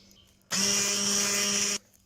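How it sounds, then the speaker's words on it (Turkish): An electric hand mixer whisks a vanilla-flavored mixture for a chicken-breast pudding dessert, a steady loud whir starting abruptly and running about a second before cutting off. "vanilya ilave ettikten sonra mikserle bir güzel çırpalım."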